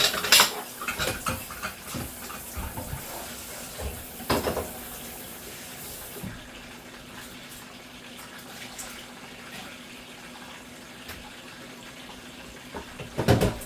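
Tap water runs steadily into a kitchen sink while raw shrimp are rinsed and cleaned, with scattered clinks and knocks of handling, close and continuous throughout.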